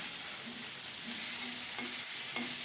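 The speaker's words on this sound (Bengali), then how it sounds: "রসুনটা লাল লাল করে ভাজা হলে এখন দিয়েছি শাক" Greens frying in oil with garlic already fried red produce a loud, continuous close-up sizzle. Faint rhythmic scrapes of stirring run through it, and no voice is heard.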